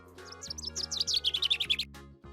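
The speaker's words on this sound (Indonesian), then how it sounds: "finch," A finch chirping in a quick run of bright, rising tweets, about a dozen in a tight rhythmic burst, close and clear with no talking.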